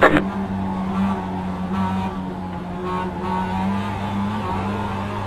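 A race car engine in the iRacing sim drones at a steady, loud pitch, with brief dips as the driver short-shifts and a sharp onset at the start; no talk is heard.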